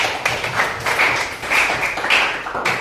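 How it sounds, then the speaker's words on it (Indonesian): Classroom applause for a student group after their presentation: a short burst of many hands clapping, steady and fairly close, with no talking. "Ya, kita beri aplaus untuk kelompok 3."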